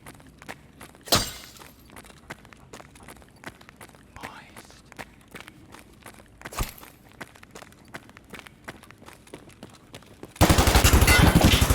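Gunfire in the shooter Escape From Tarkov: two loud shots stand out over quieter footsteps and scattered small impacts, then a sudden burst of loud, continuous noise at the end.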